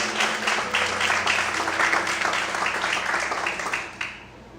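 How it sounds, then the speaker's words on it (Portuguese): A church congregation applauds the Lord loudly during a sermon, a dense, sustained wash of clapping that carries evenly for several seconds before tapering off. "glorifica e aplauda ao Senhor bem forte"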